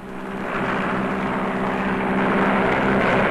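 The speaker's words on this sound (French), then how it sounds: "on peut toujours faire appel au CL-84 canadien, un appareil dont la voilure pivote et qui se transforme ainsi en hélicoptère" A Canadian CL-84 tiltrotor aircraft flies nearby with a steady droning engine and propeller roar that swells gradually louder, with no talking.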